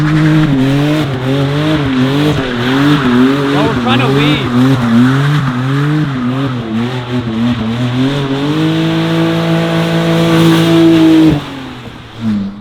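A Nissan 350Z drift car runs close by with its engine droning and rising and falling in pitch, tires squealing, then revving steadily before cutting off, while people talk over it.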